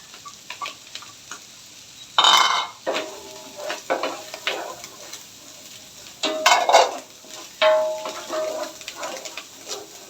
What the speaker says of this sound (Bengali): গাজর বরবটি দিয়ে আবার আমি ভাজা ভাজা করবো